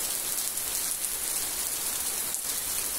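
Torrential rain falls on a countryside smallholding, a constant loud roar of water pattering on surfaces with no voices, steady throughout.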